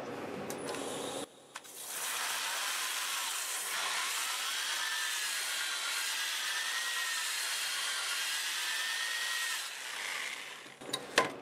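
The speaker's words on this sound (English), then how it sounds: "I'm going to start with a 2-inch disc, and I have 80 grit on it, and I'm just going to sand in here" A power sander with a 2-inch 80-grit disc grinds steadily against the inside of a redwood multi-branch bowl, a loud, close, continuous abrasive whine running for several seconds before it spins down.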